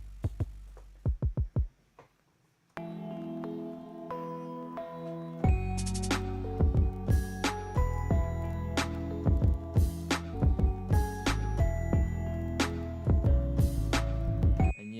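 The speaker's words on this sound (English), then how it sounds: "let me record the drums" Programmed drums in a music production session, a few sparse hits first, then a full beat of punchy kicks and crisp snare and hat strikes repeating steadily.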